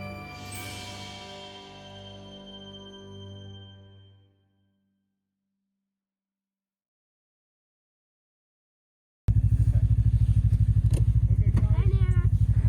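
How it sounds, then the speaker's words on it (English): A snowmobile pulls a makeshift sled loaded with bags and gear in snowy Alaska. After a fading tonal ring and several seconds of silence, its engine suddenly runs loud and close with a steady throbbing rumble. "When the snow machine arrived, it was pulling a makeshift sled with room enough for all of the bags and gear"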